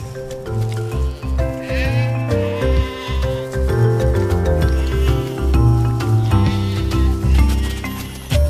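Several sheep bleat repeatedly and overlap, loud and close, their wavering calls continuing throughout.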